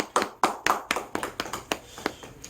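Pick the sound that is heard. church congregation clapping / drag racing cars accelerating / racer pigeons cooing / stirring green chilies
church congregation clapping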